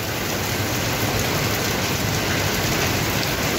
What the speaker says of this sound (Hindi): लेकिन बारिश बहुत ज़्यादा तेज बारिश हो रही है